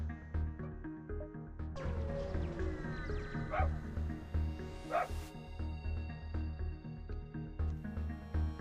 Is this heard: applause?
no